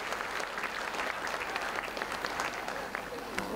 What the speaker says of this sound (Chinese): 请大家给掌声给我们的常委理事们